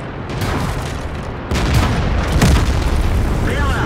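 Tank cannon fire in World of Tanks, a heavy boom that lifts into a dense, sustained blast over steady engine rumble, loud and close.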